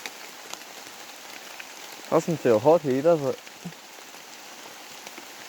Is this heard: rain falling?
yes